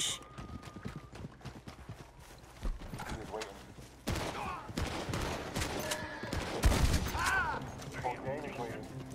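Rapid bursts of gunfire crackle through a game match, scattered shots mixed with horse hooves clopping, while players talk excitedly over the top.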